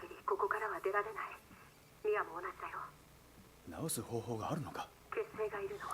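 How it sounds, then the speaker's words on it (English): A phone call plays in the video game Resident Evil 7: Biohazard, a narrow, tinny voice speaking in several bursts with short pauses between them, fairly quiet over a faint background hum. "So this phone call takes just a minute"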